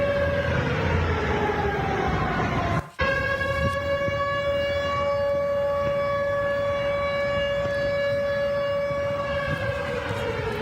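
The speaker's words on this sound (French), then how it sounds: "Les sirènes d'alerte résonnent même jusqu'à Belgorod." Air raid sirens wail steadily in Belgorod, Russia, in a loud, sustained tone that drops out briefly, then resumes and keeps sounding.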